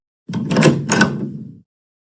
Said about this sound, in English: The door is opened.